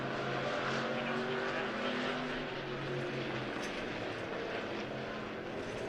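Pure stock race cars circle an oval dirt speedway in a heat race, a dense, steady roar of several engines, some passing close and others farther off, with no pause and no talking.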